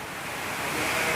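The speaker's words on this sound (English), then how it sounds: "and that rain hasn't stopped." Storm Kathleen wind and rain on a farm at night, a steady broadband roar of gusting wind and falling rain that swells slightly louder toward the end.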